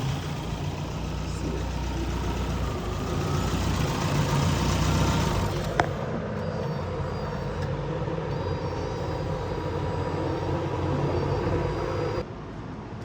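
An 1980s turbocharged Toyota truck engine runs steadily with a deep rumble and a faint high whine, holding a constant drone throughout before easing slightly near the end.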